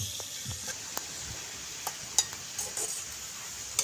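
Carrots fry in hot oil with a soft, steady sizzle, broken by occasional light clinks and scrapes of a utensil against the pan.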